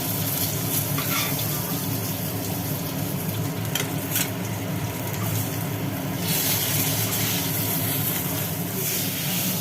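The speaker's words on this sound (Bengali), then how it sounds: "মাছগুলো তুলে নিয়ে তেলের মধ্যে পড়লো আলু" Potatoes frying in hot oil in a pan after fish have been lifted out, for a Bengali fish curry with potato and pointed gourd; a steady, continuous sizzle and hiss with occasional stirring clatter, close and fairly loud.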